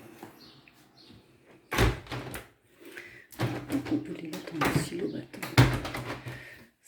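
A tilt-and-turn window in a small 29 m² flat is handled with several close, bumpy thuds and a sliding clatter, set between stretches of speech with faint birdsong outside.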